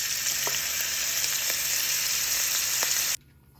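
Pancetta frying in a pan for an Italian garden tomato sauce, giving a steady, close hiss of sizzling fat with a few faint crackles, alone, until the sound cuts off abruptly near the end.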